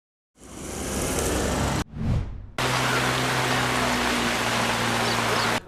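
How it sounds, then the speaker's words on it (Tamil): Heavy rain pours down in a steady, loud roar of dense broadband hiss, broken briefly by a short swelling whoosh before the downpour resumes, with a low steady hum beneath and no voices. "நாட்டில் பெய்து வரும் கனமழையால்"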